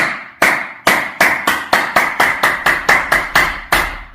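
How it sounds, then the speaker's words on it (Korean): A person claps their hands about a dozen times in a steady, loud, close rhythm during a stretching exercise, with each sharp clap ringing out briefly. "박수를 치면서"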